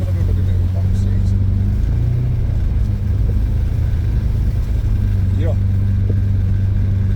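A BMW 320 with a petrol turbo and welded diff runs with a low, steady engine rumble while ploughing through snow, loud and close, with a brief spoken word over it.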